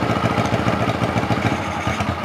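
A Honda CB125T motorcycle engine runs with its choke jammed open, a close, continuous chugging idle with a steady pulsing rhythm and slight unevenness throughout.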